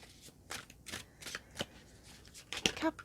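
Tarot cards being shuffled on a table: a series of quick papery riffles and flicks repeating at short intervals, close and fairly soft.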